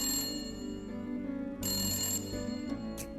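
An unanswered phone call rings through the receiver, the ringback tone repeating steadily and fairly quietly, with no one speaking over it.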